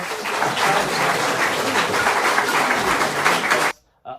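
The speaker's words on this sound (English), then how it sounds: "Give her a round of applause, class." A school class applauds a guest in the classroom, with dense, steady clapping from many hands lasting several seconds before it stops abruptly, followed by a brief faint sound.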